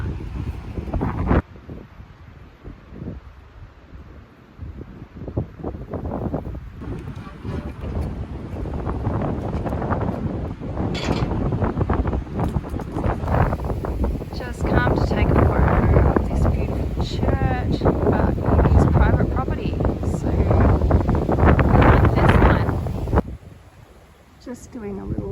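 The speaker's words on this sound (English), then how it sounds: "As you can hear, she's a bit of a blustery afternoon." Strong gusty wind buffets the microphone outdoors near a town cemetery in Tasmania's Fingal Valley, a steady broadband roar that swells and eases for most of the stretch, loud and close, with no one speaking.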